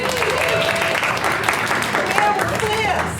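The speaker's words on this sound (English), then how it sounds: "So round of applause for Mandy, please" Audience applause at a Dunedin City Council mayoral debate, a steady wash of clapping with voices talking over it throughout.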